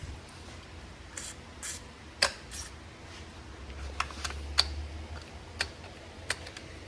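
Short bursts of oil spray on the sticking throttle of a Husqvarna T435 chainsaw, several quick hisses spaced apart, close by, with small clicks and ticks from handling in between.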